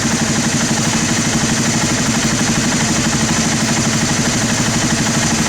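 A Honda TRX300 ATV engine idles steadily during carburetor adjustment, a loud, close, even low chugging pulse with faint mechanical clatter throughout, no talking.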